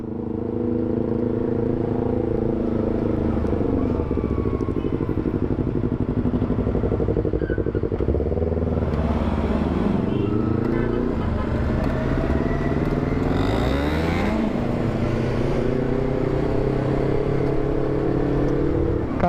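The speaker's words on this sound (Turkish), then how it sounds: "Ya bu nasıl egzoz? Kendi sesimi duymuyorum ya." A loud Yamaha R25 motorcycle engine idles roughly and revs repeatedly up and down, its exhaust rumbling close by and drowning out everything else.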